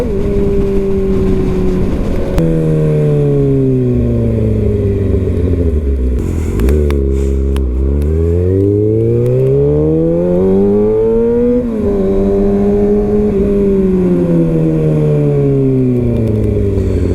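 A Kawasaki Ninja ZX-6R running a Power Commander tune accelerates hard on a freeway. The engine note climbs through the revs, dips at each quick gear change and climbs again, loud and close against rushing wind.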